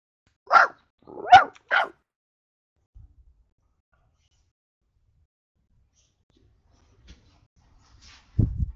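A dog gives three sharp, close barks in quick succession, followed by near silence and a faint noise at the end.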